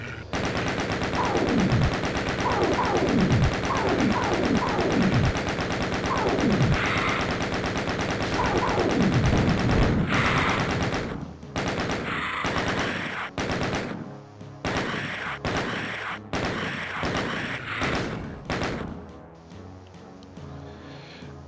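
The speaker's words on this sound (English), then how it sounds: "pull out our chain gun and we're going to alert a pain elemental that's in the lava pit" A chain gun fires in the video game DOOM, loud rapid bursts with descending whooshing tones, then choppier intermittent bursts and game effects trailing off near the end.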